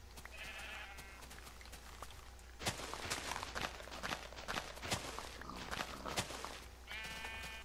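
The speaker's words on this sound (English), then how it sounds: "I don't actually need this huge army of sheep." Sheep in the video game Minecraft bleat at the start and again at the end, with a patter of footsteps and small noises in between, all faint over a steady low hum.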